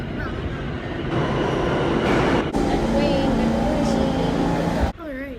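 A train pulls into a station on a hot day, a loud continuous rumble and rolling roar with squealing brake tones, cutting off abruptly near the end.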